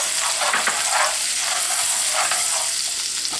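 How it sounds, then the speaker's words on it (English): Carrots sizzle in melted butter in a pan. The frying hiss is loud, steady and close, with occasional soft stirring scrapes. "And in this butter, I'm going to put the carrots,"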